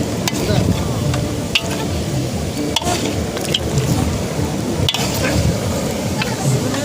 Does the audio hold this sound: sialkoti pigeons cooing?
no